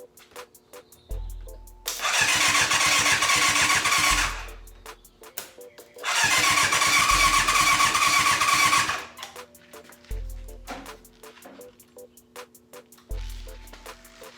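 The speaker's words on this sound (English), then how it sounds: "I was trying to start the engine" A 1988 Yamaha FZ750 motorcycle being restarted after a rebuild: the starter motor whirs in two long bursts, each lasting a few seconds, with the engine turning over without catching, and shorter low rumbles and clicks between attempts.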